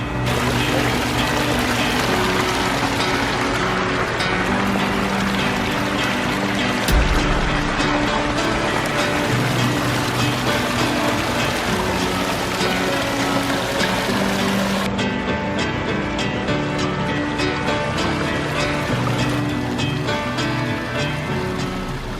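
A double waterfall in a small backyard pond pours steadily into the water below, a continuous close rush and splash with no pauses.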